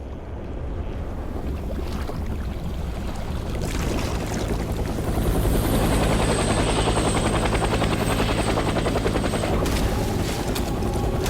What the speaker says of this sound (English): Now they have a helicopter?